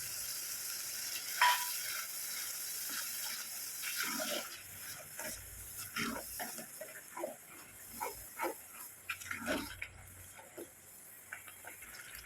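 Tomato paste sizzles and fries in oil for a Kerala fish curry, with a steady faint hiss and scattered spoon scrapes and stirring clicks, no talk.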